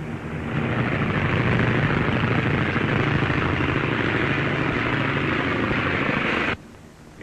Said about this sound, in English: Taking the six heavily loaded planes off the water is a tough job.